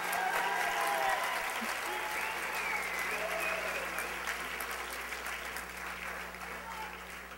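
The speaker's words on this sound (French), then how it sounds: "J'aimerais que vous offriez une bonne main d'applaudissement à Éric Boulanger-Gaudreau pour le travail qu'il a accompli" A school show audience at a local talent final in Montmagny gives sustained applause. The clapping is broad and steady, sounds somewhat distant and quiet, and fades slightly toward the end over a low hum.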